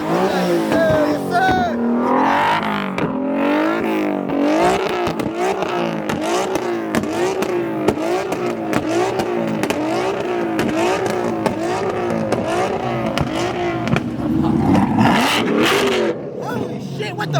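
Street cars and supercars leaving an Exotic Cars & Coffee meet rev and accelerate hard in repeated loud, surging engine pulls, with excited voices talking over the roar throughout.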